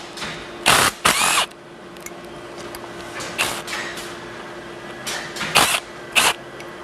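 Grinder triangle assemblies being removed with a 3/8 inch bit, giving several short, loud mechanical bursts of a power driver spinning and parts clunking, spaced out with quiet pauses and a steady low hum beneath.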